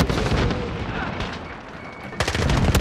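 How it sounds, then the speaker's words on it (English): Loud gunfire bursts in a military-base battle video game, dense repeated shots at the start and a heavy cluster at the end, with a sustained rumble of combat in between. "I just got fucking sniped from 300 meters"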